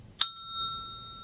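A single crisp ding of a bicycle-style bell marks a question segment in a talk show, sharp and close, its clear ringing tone fading away over about a second with no one speaking.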